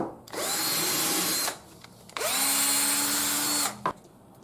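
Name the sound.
power drill drilling through wood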